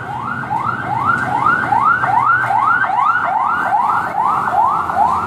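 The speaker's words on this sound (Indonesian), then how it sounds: "ambulan barusan lewat ya" Wailing two-tone ambulance siren sweeping up and down in a fast repeating rhythm, loud and close as it passes along a street, with no speech over it.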